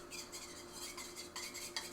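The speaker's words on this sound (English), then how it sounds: "we just mix together cornstarch and water" Cornstarch and water stirred together in a bowl, with repeated scraping, clinking strokes in an uneven rhythm, close and moderately loud, alone without speech.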